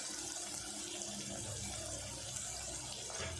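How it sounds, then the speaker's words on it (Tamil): Coconut milk poured into a pan of sautéed green chilies for coconut rice, a steady close liquid pouring and sizzling wash lasting throughout. "இப்போ இது கூட நான் தேங்காய் பால் ஆட் பண்ணிக்கிறேன்"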